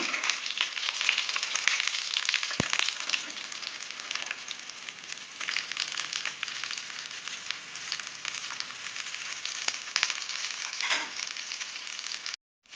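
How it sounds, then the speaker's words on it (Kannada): Sweet corn tikki shallow-fries in a pan, giving a constant close sizzle with fine crackling spits throughout and one sharp knock partway through, without any speech. "ಈ ರೀತಿಯಲ್ಲಿ ತಿರುಗಿಸಿ ಎರಡೂ ಕಡೆ ಹೊಂಬಣ್ಣ ಬರುವವರೆಗೂ ಬೇಯಿಸ್ಕೊಂಡ್ರೆ ನಮ್ಮ ಸ್ವೀಟ್ ಕಾರ್ನ್ ಟಿಕ್ಕಿ ರೆಡಿ ಆಗುತ್ತೆ"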